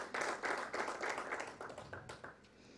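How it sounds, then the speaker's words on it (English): An audience clapping for a government minister at a rural-development talk show, a fairly quiet, uneven patter of hands that tapers off after a few seconds. "I think he deserves a better clap than that."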